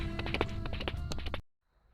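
Hooves of a large horse clip-clop in a quick, uneven run of close taps on hard ground, up close, then cut off abruptly into near silence.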